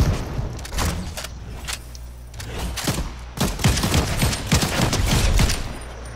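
Bursts of gunfire in Fortnite squads play, sharp crackling volleys and single shots scattered irregularly over several seconds, some close and loud, others more distant.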